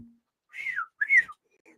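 A person whistles a short two-note call, the first note sliding downward and the second rising then dropping, clear and close against silence.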